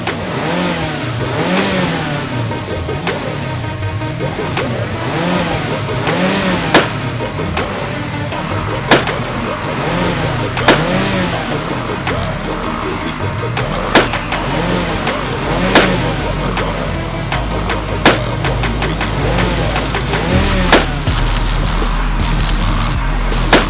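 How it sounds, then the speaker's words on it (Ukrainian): A KTM 250cc two-stroke motorcycle engine revving hard and continuously for a long stretch, loud and close, with repeated throttle surges, in a contest to inflate a giant balloon. "До нас приєднався 250-кубовий КТМ двохтактний."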